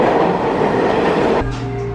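New York City subway train, heard up close as a loud, steady rolling rumble that shifts to a lower, humming tone partway through.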